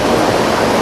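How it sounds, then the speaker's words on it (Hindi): Rushing water of the Mandakini river near Rambara on the trek to Kedarnath: a loud, steady, broadband roar of fast-flowing mountain water with no breaks and no voices. "तो आप देख सकते हैं पीछे जो नदी है वो मंदाकिनी नदी है"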